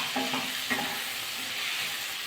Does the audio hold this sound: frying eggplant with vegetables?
yes